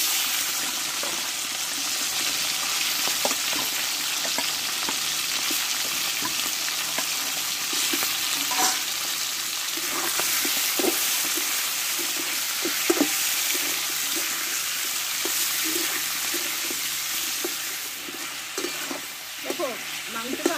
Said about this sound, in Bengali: এবার এই তেলে আমি চিকেনটাকে আমি একটু ভেজে নেব।